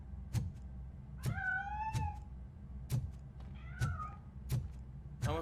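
Several meows from a cat in RoboCop: Rogue City, rising and wavering, spaced through the clip over steady low game ambience with sharp thuds between calls.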